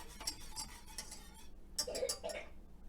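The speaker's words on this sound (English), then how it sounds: "we're just going to give that a little whisk" A mixture for honey oatmeal granola bars is whisked in a bowl, giving faint, quick metallic clinks and ticks in short rhythmic bursts, with a brief pause before a final flurry.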